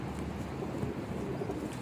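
Pigeons, several of them females, coo on a rooftop, low soft burbling calls in a steady murmur up close, with no talk.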